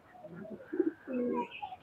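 Pakistani highflyer pigeons in a loft give a few soft, throaty coos close by, the last one longer and rolling, with no talk over them.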